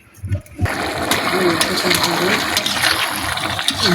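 Water splashes into a pan of sautéed jiol fish and papaya curry, starting with a sudden gush and settling into a steady hiss and bubble, with a voice talking faintly beneath.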